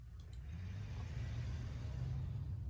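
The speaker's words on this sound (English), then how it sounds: "All I could do was sit there and listen to the sound of the engine" Car engine from the video game Slow Damage running steadily as a low, continuous rumble heard from inside the vehicle, even and unbroken, with a couple of faint higher clicks near the start.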